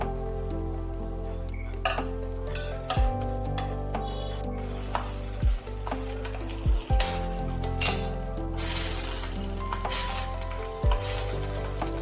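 A besan chilla (gram flour pancake) sizzles loudly in an oiled pan on a low flame after the lid comes off, with clinks and scrapes of a spatula and pan knocks over a constant close crackle.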